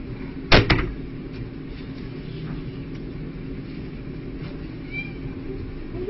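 A pet cat meows during a morning feeding, one short loud cry near the start over steady indoor background hum, with faint fainter sounds afterward and no clear speech.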